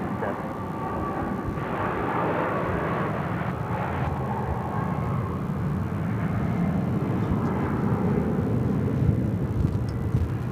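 An American Airlines jet landing on runway 25 left at Phoenix Sky Harbor airport, a steady broad roar of engines and rushing air that holds loud and continuous throughout, with faint radio chatter underneath.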